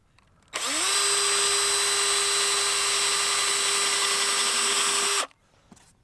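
Power drill boring a screw hole in the exterior of a vintage truck camper, one steady high whine that spins up quickly, holds for about five seconds and then cuts off, close and loud.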